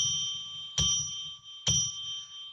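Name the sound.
bell rung three times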